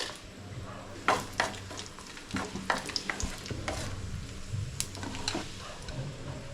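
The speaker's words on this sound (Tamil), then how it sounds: "மண்சட்டி நல்லா சூடாயிடுச்சு எண்ணெய் ஊற்றிக்கலாம் வரமிளகா சேர்த்துக்கலாம்" Dried red chillies frying in oil in a clay pot sizzle steadily, with scraping stirs and occasional sharp pops close by.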